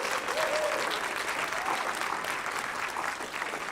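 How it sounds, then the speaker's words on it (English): A church congregation applauds steadily throughout, a dense wash of clapping hands with a faint voice or cheer rising briefly early on. "Yeah, we clap for God."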